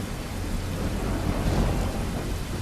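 A movie scene carries a thunderstorm with steady, loud heavy rain and a deep rumble of thunder rolling underneath, continuous throughout with no talk.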